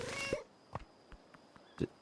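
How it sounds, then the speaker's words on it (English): Cartoonish cat meow from the Mineko's Night Market video game, one clear mew at the start followed by a few soft game sound effects and a short chirp near the end. "Did that cat just come out of the ground?"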